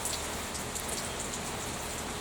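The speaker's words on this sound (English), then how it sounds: "Here comes the rain again." Steady rain falling outdoors, a dense continuous hiss of drops with fine pattering on surfaces, fairly loud and close, with no voices.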